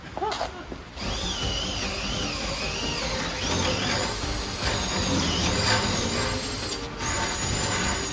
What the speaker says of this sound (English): These rear bushings are so bad, I'm gonna have to drill them out.